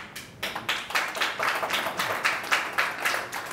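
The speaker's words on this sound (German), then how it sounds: "Der Applaus bestätigt Ihre Arbeit." An audience applauds at a panel discussion on Hamburg and climate change, with dense, steady clapping that swells and continues throughout.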